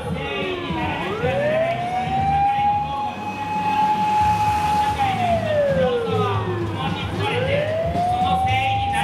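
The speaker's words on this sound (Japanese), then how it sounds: "消防車後ろから来ます。" A fire engine's siren comes up from behind during a street speech, a loud wailing tone that rises, holds and falls, then rises again, with a voice speaking over traffic noise.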